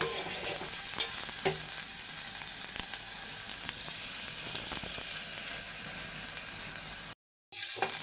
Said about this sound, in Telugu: అల్లం వెల్లుల్లి పేస్ట్ కొంచెం పచ్చివాసన పోయేంత వరకు వేసుకోవాలి